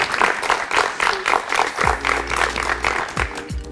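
Rhythmic clapping from a studio audience at a school game show, steady and fairly loud, with a low thump and some voices underneath.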